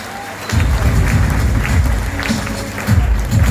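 Audience at a business meeting in Jamshedpur breaks into loud, sustained applause and cheering that starts abruptly and holds steady for several seconds, with a fresh swell near the end.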